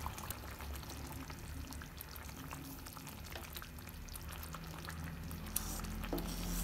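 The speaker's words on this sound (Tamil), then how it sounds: "இப்போது நம்ம பொறிச்சு வச்சுருக்கேன் இந்த முட்டையை இதில் ஆட் பண்ணிக்கலாம்." Fried eggs dropped into a simmering, sizzling egg curry gravy in a pan, with close, continuous bubbling and sizzle, a few soft stirs and splashes, and no talk.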